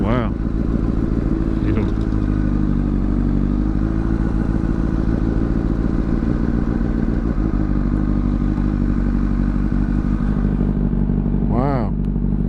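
A motorcycle rides steadily past the scene of a car accident, its engine droning loud and close throughout with a few clattering thumps, while the rider talks briefly over it.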